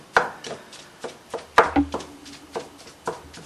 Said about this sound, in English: mix in the spices and just chopping it to pieces